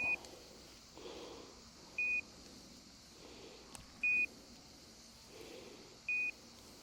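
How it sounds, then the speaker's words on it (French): A dog's beeper collar gives short, high beeps, four of them spaced about two seconds apart, over quiet outdoor background noise. "le chien, il entend biper juste à côté de lui"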